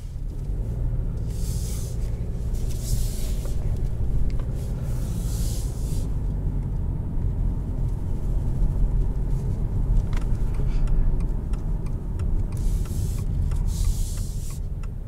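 A 2021 Subaru Legacy XT Touring cruises along, heard from inside as a steady low engine and road rumble. Periodic swells of tire and wind hiss rise and fall over it.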